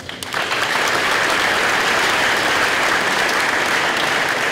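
Loud, dense applause from an awards ceremony audience at a technical center honouring students who won achievement medals, a full sustained roar of clapping that starts suddenly and stays even throughout.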